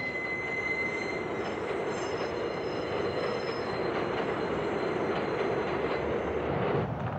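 Subway train rolling along the tracks with metal wheels squealing, a sustained high screech over a steady rumble and faint rhythmic clatter throughout.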